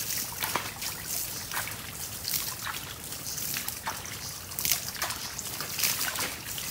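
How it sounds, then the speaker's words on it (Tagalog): Water pours and splashes steadily over a mestizo water buffalo being cooled down on a farm, a continuous trickling, splattering wash with occasional louder dousing splashes, close by. "nainitan si Palo, kaya buhusan natin siya ng tubig"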